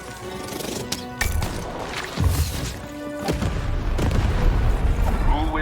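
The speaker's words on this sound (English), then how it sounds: "The button to fire the cannon." Cannon shots in the video game Lost in Random, heavy booming impacts repeating at irregular intervals over a busy game soundtrack, fairly loud and close.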